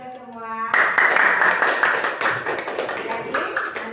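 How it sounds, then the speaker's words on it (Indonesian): A school class claps in dense, lively applause for several seconds. It starts suddenly right after a short voice, and the clapping fades slightly toward the end. "Sekarang tepuk tangan dulu untuk kita semua."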